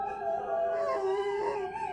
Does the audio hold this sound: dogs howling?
yes